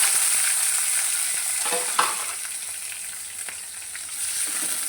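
Ginger and green chillies sizzle in a hot pan for a bitter gourd tamarind stew, a steady broadband hiss with a few brief stirring scrapes, close and alone.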